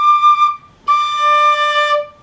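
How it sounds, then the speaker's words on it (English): High, pure tin-whistle tones from a Woodi USA pennywhistle, one held note, a short break, then a long sustained high D with rich overtones, played solo and close. "with these whistles, you do have to open the top hole to play high D"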